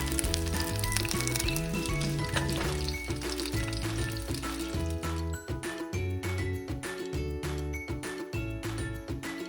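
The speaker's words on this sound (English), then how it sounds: "I hear it sizzle. Can you hear it sizzle too?" Blintzes sizzle steadily in a hot frying pan, the crackling hiss running continuously beneath loud tonal music.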